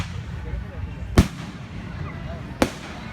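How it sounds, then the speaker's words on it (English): Two sharp, loud firework bursts crack about a second and a half apart over a continuous murmur of people talking nearby. "Back to the fireworks."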